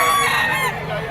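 Rooster crowing at a gamecock market among Sweater Kelso straight-comb fighting roosters, a bright sustained call standing out over a busy background of other birds and a faint voice.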